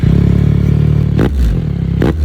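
A Yamaha R9 motorcycle with a Yoshimura aftermarket exhaust and flashed ECU idles with a loud, throbbing exhaust note, broken by two sharp throttle blips that rev the engine up and back down.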